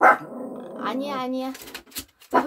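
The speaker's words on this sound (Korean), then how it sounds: "지금 어디서 밖에서 강아지 소리 들리니까" A pet dog indoors barks and whines, a short excited yelp and a drawn-out whimper, while someone speaks Korean over it.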